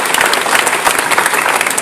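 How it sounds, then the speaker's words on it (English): An audience at a startup pitch conference applauds as a speaker is introduced, loud, close, dense clapping sustained throughout. "Round of applause for Kevin."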